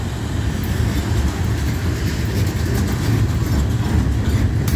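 A southbound manifest freight train with grain cars rolls uphill through Abbeville, a continuous heavy rumble with steady wheel noise, close and loud, with no voices.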